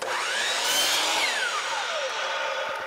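A power saw makes a short test cut in crown molding, its blade whine rising quickly, holding loud and close, then winding down over about three seconds.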